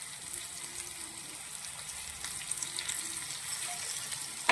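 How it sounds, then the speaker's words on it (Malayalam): Curry leaves, onion and salt sautéing in a pan for fish pollichathu, a faint, steady, continuous sizzle with light crackles and no talking. "നന്നായിട്ട് ഇതിന് വഴറ്റിയെടുക്കണം."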